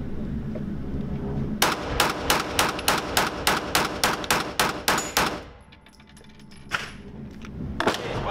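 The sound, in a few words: Smith & Wesson M&P9 M2.0 9mm pistol firing shots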